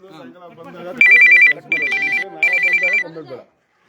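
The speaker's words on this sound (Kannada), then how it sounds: "ಫೋನ್ ಬರ್ತಿದೆ ನೋಡಿ." A mobile phone ringtone plays in three loud, bright bursts of repeating electronic tones, each about half a second long with short gaps, over a low murmur of people talking in an office setting.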